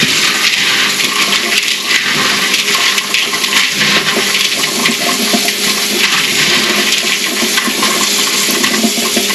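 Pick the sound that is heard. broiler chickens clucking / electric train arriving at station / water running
water running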